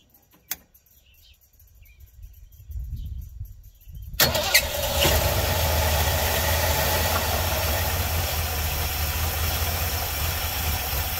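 A 43-year-old Ford Econoline E150 van cranks over after sitting through winter, its engine catching with a sharp jump in loudness and then settling into a steady, rough, loud idle that continues for several seconds with no talking over it.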